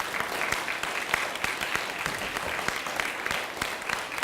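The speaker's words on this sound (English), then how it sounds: "Let's give them a round of applause." Steady applause from an audience at an elementary school D.A.R.E. graduation ceremony, honoring the parents; dense, continuous clapping from a fairly large crowd, moderately loud and sustained throughout.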